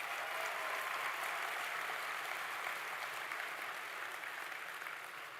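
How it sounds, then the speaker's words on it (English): A closing-ceremony audience gives a round of applause for performer Mitch Tambo, steady dense clapping heard from a distance that holds level and eases off slightly at the very end. "Ladies and gentlemen, one more round of applause for Mitch Tambo."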